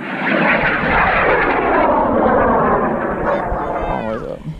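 A Level 1 model rocket motor ignites and roars loudly for several seconds as the rocket launches, a sustained broadband rushing blast that fades as it climbs away, with a voice briefly audible near the end.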